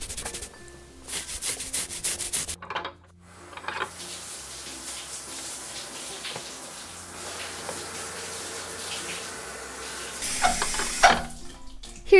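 A Pomeranian gets a warm bath, with water running from a tap and hands scrubbing shampoo through its fur, making wet rubbing and splashing sounds that swell and ease, with brief bursts of heavier running water near the end.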